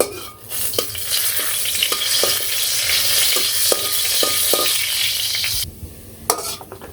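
Dried red chillies sizzle and fry in a wok for a village home cook, a steady close hiss with occasional stirring clicks, which drops off near the end.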